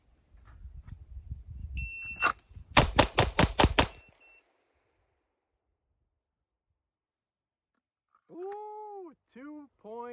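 A 9mm pistol fired at a range, a rapid string of five or six loud, sharp close shots in quick succession, preceded by a shot timer beep and rustling, then voice-like tones later.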